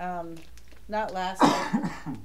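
A person speaks briefly, then a single harsh cough or throat clear bursts out close by, followed by a few more words.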